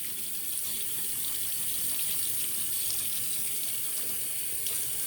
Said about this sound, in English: I'm going to get the brush a little water on there.